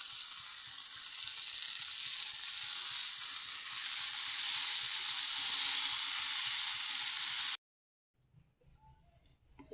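Okra fries in hot oil with a loud, continuous crackling sizzle that lasts about seven seconds, then cuts off into near silence.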